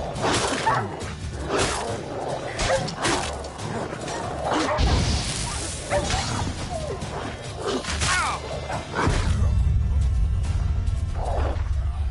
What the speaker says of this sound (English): So these stray mutts form packs.